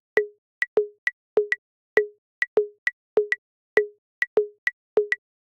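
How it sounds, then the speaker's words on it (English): Two interlocking percussive plop patterns, dotted eighth notes layered over steady quarter notes, sounding as short, dry, evenly spaced clicks at two pitches that drift in and out of alignment over about five seconds. "Let's listen to a pattern of dotted eighths over a pattern of quarter notes."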